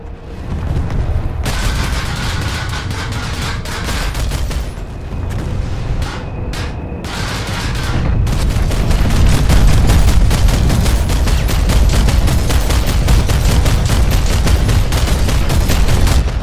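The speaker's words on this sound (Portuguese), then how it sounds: "Ah, muito Max atirando aqui" Video game gunfire rattles continuously, with dense rapid bursts and heavy shots layered into one loud, unbroken barrage that builds in intensity, with only brief gaps along the way.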